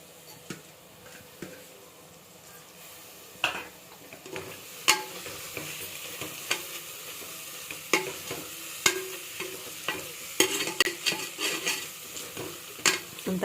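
Onions frying in a pot for mutton biryani, a low sizzle underneath with a spoon stirring and scraping against the metal in sharp, irregular clicks that grow more frequent.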